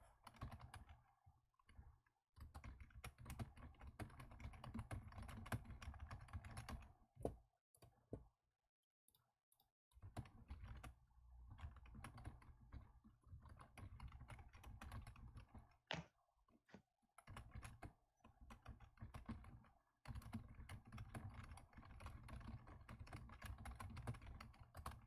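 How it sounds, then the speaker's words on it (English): Rapid clicking keystrokes on a computer keyboard, close and quiet, come in bursts with short pauses between runs of typing, and no voices over them. "I know you can hear the click clicks of the typing."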